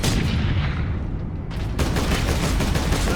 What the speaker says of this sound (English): and then my buddies start shooting over the way